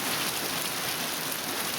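Heavy monsoon rain in Pak Pun, Nakhon Si Thammarat, pours down in a dense, steady hiss, close and loud, with no other sounds above the constant downpour.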